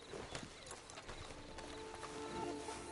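Horse hooves clip-clop in Red Dead Redemption 2 Online: a string of quick, moderately close hoof knocks over a quiet game ambience.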